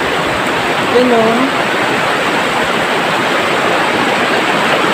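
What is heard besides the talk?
river water flowing near a waterfall in Palawan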